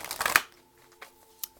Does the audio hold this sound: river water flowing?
no